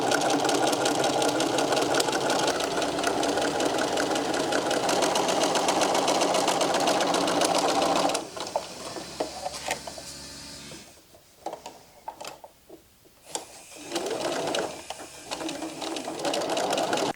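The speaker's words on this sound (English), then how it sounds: "And then you just top stitch close to the edge." A sewing machine top stitches close to the edge of a fabric Easter basket handle. It runs steadily and loudly for about eight seconds, then breaks into short stop-start bursts of stitching.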